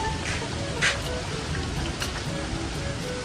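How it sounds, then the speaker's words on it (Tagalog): Dishes are washed under running water outdoors by a fishpond, a steady splashing patter with occasional louder clinks and splashes, moderately close and continuous. "Huhugasan ko na po itong mga pinggan na amin pong kinainan"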